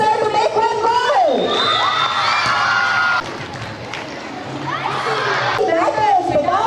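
A crowd of schoolchildren cheers and shouts for the vice principal to score a goal at a school sports day, with loud, sustained whoops and screams over a noisy outdoor crowd.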